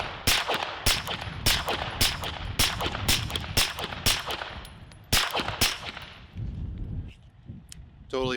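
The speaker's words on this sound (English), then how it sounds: "again shooting the same ammo from the same magazine" A PSA Dagger pistol fires a rapid string of loud, sharp gunshots during a 1000-round test with a Grey Ghost Precision barrel, about a dozen evenly spaced reports, then a pause and a final shot with some ringing afterward.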